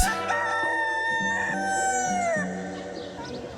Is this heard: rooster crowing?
yes